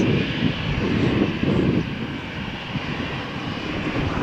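An EasyJet airliner taxiing for takeoff at Malaga Airport gives off a steady, loud engine drone with a broad rumbling hiss that eases slightly partway through, and no talking.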